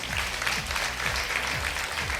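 An audience at the X Factor talent show claps steadily and densely, with even, sustained applause filling the whole stretch.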